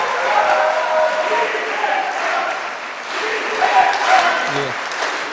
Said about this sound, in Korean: 뜨거운 박수 보내주시기 바랍니다